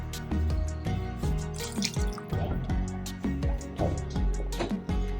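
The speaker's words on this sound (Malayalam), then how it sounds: "1/4 ഗ്ലാസ് കൂടി വെള്ളം ഒഴിക്കുന്നുണ്ട്." About a quarter glass of water is poured into a pot of mango sambar, giving close, continuous splashing and dripping with liquid bubbling sounds.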